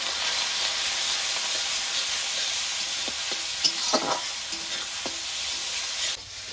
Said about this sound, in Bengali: এবার নেড়ে চেড়ে মশলাটাকে ভালো করে কষিয়ে নেব